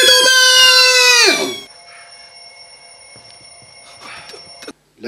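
An anime alarm signalling the end of an online auction rings loudly as a bright, sustained electronic tone for over a second, then drops to a quieter steady hum with faint clicks.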